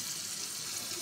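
Pieces of pangas fish are washed under a running kitchen tap, a steady close rush of water splashing over the flesh, brief and continuous with no voices.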